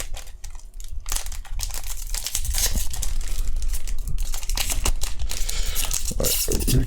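A Dragon Ball Super card game pack wrapper is torn and crinkled open by hand, giving close, continuous rustling and tearing that grows louder partway through.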